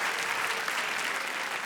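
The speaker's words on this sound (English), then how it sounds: "You don't have to clap." A comedy club audience claps, a dense, even burst of many hands applauding close and loud throughout with no break and no voices over it.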